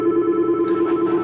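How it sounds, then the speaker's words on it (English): A phone rings from a click-to-dial test call, a steady electronic ring tone held alone at moderate loudness for a moment. "you can hear already that my phone is ringing"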